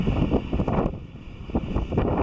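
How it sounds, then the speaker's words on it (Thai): Strong gusty wind at Bethany Beach buffets the microphone in an uneven, rumbling roar that surges and dips. No one speaks. "ขึ้นลมแรง"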